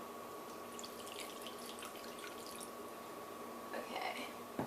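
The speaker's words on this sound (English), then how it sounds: "You're going to pour the lemonade in." Lemonade poured into a cup in a home kitchen while making chicken tacos: a quiet, soft liquid trickle and splash under faint background hiss, with a brief murmur of a voice.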